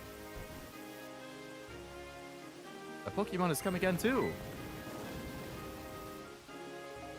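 Steady rain and wind hiss through a Pokemon White game scene, constant under the game music, with a voice speaking briefly in the middle.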